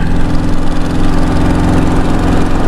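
A motorcycle engine runs steadily at close range, a loud, even, throbbing chug at idle with no voices over it.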